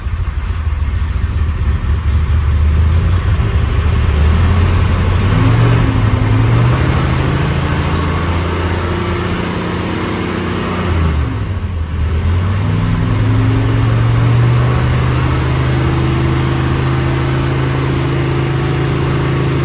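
A 1963 Ford Galaxie R Code V8 idles steadily up close, a loud, even rumble with a couple of slight rises and dips in pitch, no voices over it.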